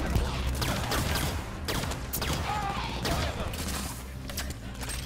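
Rapid bursts of Halo 5: Guardians gunfire crackle in quick volleys from a balcony over a busy, dense background.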